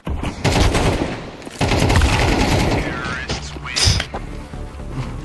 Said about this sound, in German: Er schießt durch die Scheißkiste